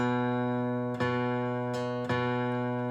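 Two open guitar strings sounded as a beginner tuning reference, each plucked note ringing out clearly with long sustain, struck again at regular intervals over about three seconds, alone without talk.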